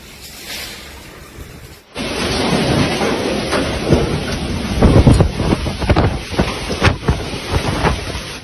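A violent thunderstorm over Lombardy, Italy, with strong winds and heavy rain, opens quiet, then breaks into a loud, sustained roar of wind and downpour with gusting bursts and rumbling, with no voices.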